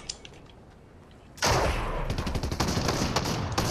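Shotgun fire in the Fortnite video game, a sudden loud blast after a quiet stretch, followed by a rapid string of sharp, close gunshot cracks in quick succession.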